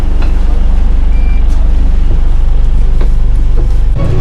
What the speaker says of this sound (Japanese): で343番のバスが来たので乗り込みます。